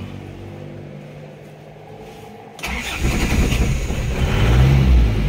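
A 1997 Isuzu Panther diesel engine cranks and catches, settling into a loud, gruff, throbbing idle that swells slightly as it revs, heard up close.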